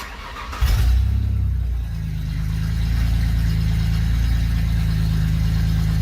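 A Ford Ranger on a DynoJet chassis dyno cranks and fires up, then settles into a steady, loud, close idle around 1100 rpm with a constant low engine drone.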